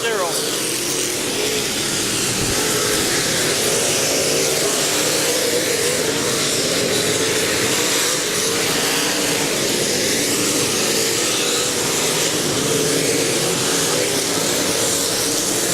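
A Mod race cars roar around a track during a Memorial Day last chance main event, a loud, continuous engine drone that fills the whole stretch with shifting pitch as the cars pass, while an announcer talks over it.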